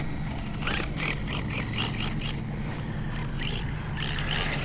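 A Jato RC car running with a stripped plastic spur gear, giving a steady mechanical whine and grinding drone at moderate level, with a faint pulsing rattle over it and no talk.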